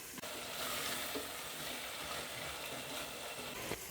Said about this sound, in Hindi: टमाटर सॉफ्ट होने तक हम भून लेंगे